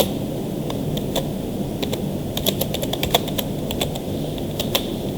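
Rapid typing on a computer keyboard while an account name is entered in Urdu into accounting software, with steady close key clicks in irregular bursts over a quiet room hiss.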